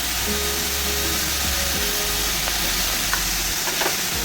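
Dill greens (shepu bhaji) frying in a pan, a continuous close broadband sizzle with occasional stirring scrapes and no talk.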